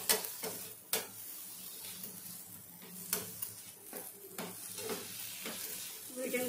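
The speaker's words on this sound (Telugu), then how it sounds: "వీటిని కూడా ఒక 2-3 మినిట్స్ బాగా ఫ్రై చేసుకోవాలి." Chopped tomato pieces fry in a pan for egg biryani, giving a steady low sizzle broken by several sharp scrapes and clacks of stirring.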